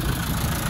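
A military reconditioned Land Rover Defender 90 300Tdi diesel idles with a steady, close, even low rumble and no talk over it.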